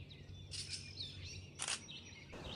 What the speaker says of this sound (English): One of the most common species I encountered was gray catbird